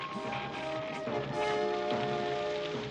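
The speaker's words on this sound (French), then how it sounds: "cette pluie diluvienne a dû arroser mes préparations chimiques" Torrential cartoon rain pours steadily in a Smurfs village, a dense hissing wash of drops layered with bright musical tones and faint background voices.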